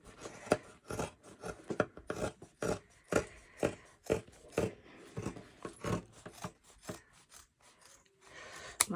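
Scissors snip repeatedly through thrifted denim jeans, a steady run of close, crisp rasping cuts with short pauses between strokes.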